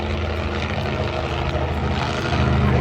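A monster truck engine at a monster truck show in Lakeside, California roars loudly and continuously under throttle, a dense, sustained mechanical drone heard from nearby.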